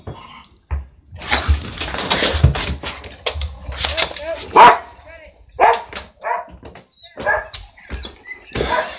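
A pet dog barks repeatedly in short bursts close by while a person talks over it, the barks scattered irregularly throughout, mixed with room noise and game sound.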